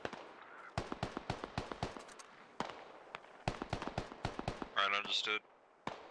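Rapid bursts of gunfire in the military shooter SquadOps on a riverbank operation, sharp repeated cracks in clusters through the clip with an electronic radio-like burst near the end, while a voice briefly speaks over it.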